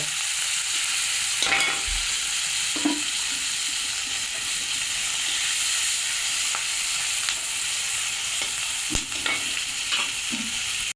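Spice paste of ground cumin and tomato frying in a pan, a steady close sizzle and hiss throughout, with a few stirring scrapes and knocks now and then, no talk.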